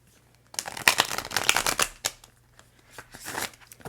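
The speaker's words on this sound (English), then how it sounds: "So let's give these a shuffle." A deck of tarot cards being shuffled by hand, a quick burst of riffling and flicking followed by softer sliding and tapping, close and clear with no talk.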